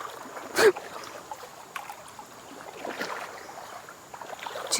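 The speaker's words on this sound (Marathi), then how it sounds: "आम्ही चाललोय हळूहळू पाण्यातून" Water sloshes and swishes softly as someone wades slowly through a river in dense forest, with one brief louder splash near the start and no talking.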